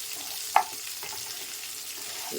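Onions sauté in a pan for a spicy onion-tomato chutney, a soft steady sizzle with one sharp clack of a spoon against the pan early on, then lighter stirring scrapes.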